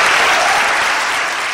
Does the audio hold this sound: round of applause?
yes